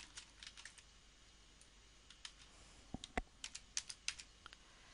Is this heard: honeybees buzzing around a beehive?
no